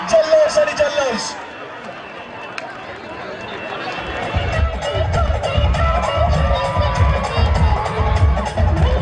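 A crowd cheers and shouts at the Vangani Premier League 2019 final after the winning team takes the match, with loud lively shouting and low thumping beats building after a few seconds under a voice on a microphone.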